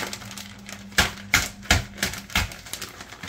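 Inoculated brown rice grain being mixed in a bag, a series of sharp crinkling, rustling shakes at irregular intervals, close and fairly quiet.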